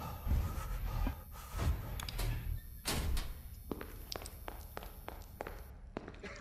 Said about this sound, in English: I heard a big footstep.